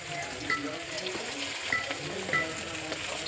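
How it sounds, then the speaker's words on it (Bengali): Meat pakoras deep-frying in oil for a large outdoor feast, a continuous bubbling sizzle with a few sharp crackles and pops, heard close and with no talk over it. "যে পকোড়া ভাজা চলছে, পকোড়া ভাজার আলাদা মিস্ত্রি"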